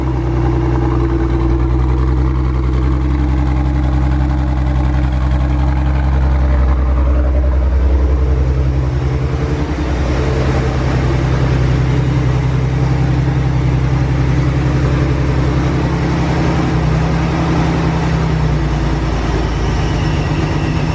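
Supercharged V6 Camaro engine cold-started and left idling while leaking, a loud, steady low rumble with a smooth droning hum throughout and no talk.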